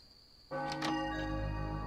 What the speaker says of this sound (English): that bell's gonna keep going